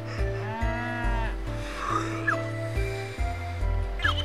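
A cartoonish cow lows in Harvest Moon: Tree of Tranquility, with repeated short moos over a steady, looping farm music track.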